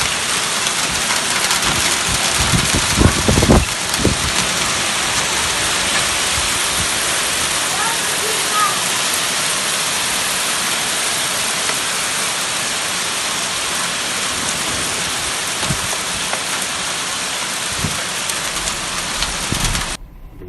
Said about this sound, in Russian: Град пошел.